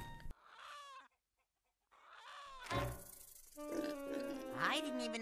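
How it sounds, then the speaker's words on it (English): A cartoon chicken from Ed Edd n Eddy clucks in short, bright bursts among exaggerated animated voices and sound effects, with a brief silent gap midway and the clucking growing busier toward the end. "Chicken! Pet the chicken, pet the chicken!"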